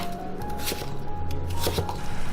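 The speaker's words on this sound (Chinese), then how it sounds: "再把萝卜切成条" A knife slicing radish into strips on a cutting board, giving several soft, close chopping taps and short crisp cuts over a low kitchen hum.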